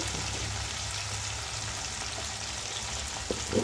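Tomatoes cooking in a pan on lowered heat give off a steady, soft hiss of sizzling, with a brief stirring scrape near the end, no voices.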